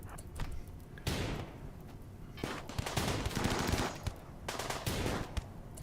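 Colonists open fire in the video game Rimworld, delivering bursts of rapid gunshots and fusillades in several volleys with brief pauses between them. The shots are loud and close, with no talk over them.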